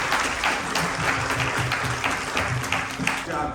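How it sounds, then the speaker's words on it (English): Audience applause after a Ramayan Yajna evening at a Hindu temple in Orlando, steady dense clapping from a crowd with some voices mixed in. "Let's give our Vyasji a very big round of applause."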